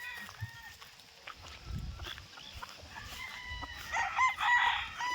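A rooster crows among farm chickens, a harmonic call rising midway and swelling louder near the end, with clucking and low thumps of fowl in the background.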